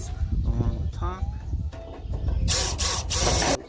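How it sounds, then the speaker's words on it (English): A power drill bores holes along the top of a sheet-metal structure for a Blackstone griddle cookhouse, its whine rising in short bursts amid clattering handling noises and speech nearby. "And then I'm gonna drill some holes along the top."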